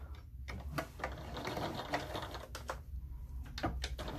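A sewing machine stitches a crossbody bag, running in a close, steady rapid patter with brief pauses and restarts, clicking and whirring with no talk.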